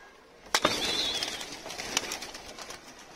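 A pigeon coos briefly and softly nearby, with a short rustle at the start and a low murmur of calls afterward.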